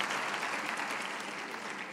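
A church congregation claps steadily during a worship service, a dense, even wash of applause that holds at the same level throughout.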